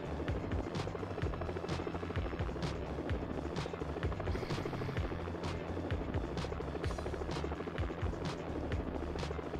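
A helicopter in the Jackie Chan Stuntmaster video game, loud and close, its rotor thudding in a steady rapid rhythm mixed with sharp impact and gunfire-like bursts throughout.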